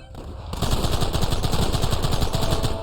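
Rapid automatic gunfire in the Red Dead Redemption video game, a loud, dense, continuous rattle of shots right up close that runs almost unbroken after a brief lead-in.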